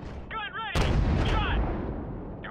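Gunship cannon fire from Call of Duty 4: Modern Warfare Remastered, a heavy booming blast that rolls on as a long roar after a short burst of radio chatter, loud and close.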